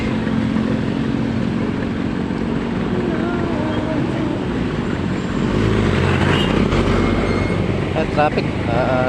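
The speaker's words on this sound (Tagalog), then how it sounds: "Traffic." Road traffic at a crossing in Malolos makes a steady, loud, dense rumble of engines with passing vehicles, and the noise grows heavier partway through.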